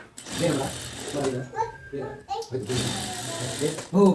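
A sewing machine stitches a shoulder seam with a rhythmic mechanical chatter that runs in short bursts, heard under someone talking throughout.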